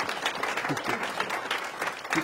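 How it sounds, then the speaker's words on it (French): A village hall audience applauds the hamlet of Plascassier, a steady soft wash of many hands clapping at a moderate distance, with faint voices mixed into the crowd. "Donc applaudissez le hameau de Place Cassée parce que c'est super gentil qu'ils nous reçoivent."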